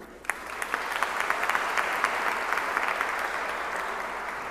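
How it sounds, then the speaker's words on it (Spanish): Sustained applause from a festival audience honoring special guests at an international image festival, a dense wash of many hands clapping steadily at moderate volume throughout, with a few sharper individual claps standing out. "Reiteremos un aplauso a nuestros invitados e invitadas especiales en este FINI 2016."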